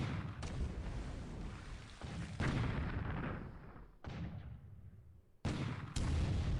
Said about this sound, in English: our coastal guns are going to take some more shots at his amphibious landing here at Loganville